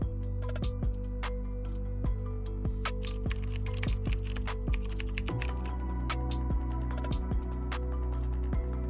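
Typing on a computer keyboard, a close, quiet stream of irregular key clicks and taps over a faint steady hum, with no talk.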